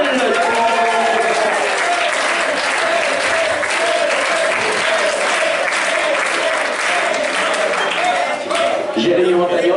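An audience gives a loud, sustained ovation at an awards night, with dense, continuous clapping and crowd noise that fills the whole stretch without a break.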